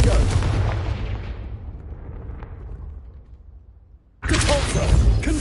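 Confringo spell blasts in Hogwarts Legacy, a heavy explosive boom that decays over several seconds into a fading rumble, followed by another loud burst near the end.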